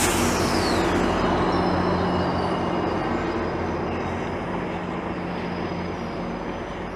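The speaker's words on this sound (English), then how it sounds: "Another GO train." A GO commuter train in downtown Toronto rumbles past close by, a loud continuous roar with a faint high whine that slowly fades.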